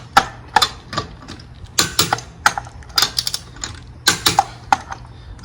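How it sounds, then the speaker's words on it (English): Ratchet wrench clicking in short, irregular bursts of sharp mechanical ticks during routine service on a 2017 Hyundai Elantra SE at 135,000 miles, close and fairly loud with a low hum beneath. "See how you can ratchet it up"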